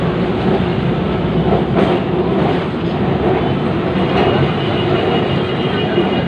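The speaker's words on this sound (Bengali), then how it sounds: "ট্রামে চড়ে ধীরে ধীরে কলেজ স্ট্রিট দিয়ে যাচ্ছি।" Kolkata tram rolling slowly along College Street, giving a continuous close rail rumble and rattle at an even level, with faint clanks now and then and no talking.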